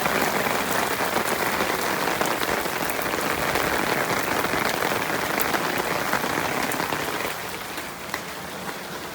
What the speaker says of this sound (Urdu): بہت بارش ہے آج، کل پرسوں سے بارش لگی ہوئی ہے